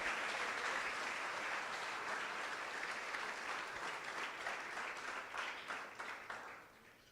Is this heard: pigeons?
no